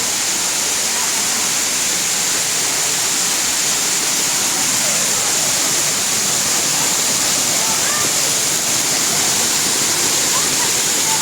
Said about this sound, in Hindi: ये देखिए कितना खूबसूरत चश्मा और आबशार ऊपर से आ रहा है।